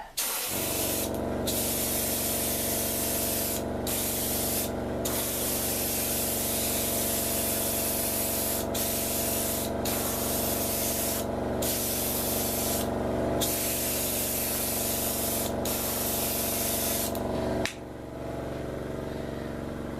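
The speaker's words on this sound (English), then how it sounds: "Now we can spray the rest of the ship." An airbrush or spray can hisses continuously while painting a 1/350 scale USS Enterprise model ship, a loud, close, steady spray broken by several short pauses, then dropping to a quieter hiss near the end.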